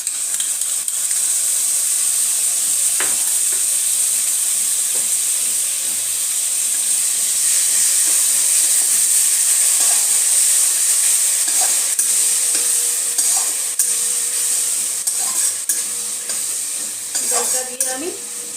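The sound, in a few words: spices and yogurt sizzling while being sautéed for potato biryani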